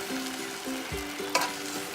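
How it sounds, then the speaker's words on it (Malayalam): Orange juice goes into a hot pan and is stirred, giving a soft bubbling hiss with rhythmic spoon scrapes and one brief clink, close and quiet. "നമുക്ക് ഈ ഓറഞ്ച് ജ്യൂസ് ഇതിലേക്ക് ഒഴിച്ചു കൊടുക്കാം."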